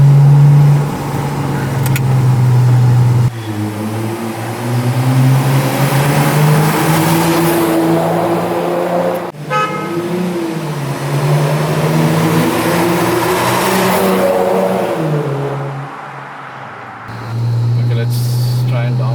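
A Mercedes-Benz CLS350 of about 276 horsepower accelerates hard on a road, its engine note rising loud and close, pausing for shifts and climbing again, with someone talking intermittently over it.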